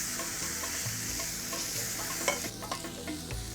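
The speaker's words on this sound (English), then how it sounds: "So what does frying do? Well, it releases the aromatic oils in the spices and lemongrass." A spice paste with lemongrass fries in a pan and gives a close, steady sizzle. Stirring adds scraping accents and a few sharper crackles, with no talk.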